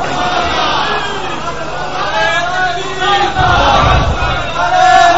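A large crowd at a religious gathering loudly chants a slogan, a dense roar of many voices swelling and rising toward the end.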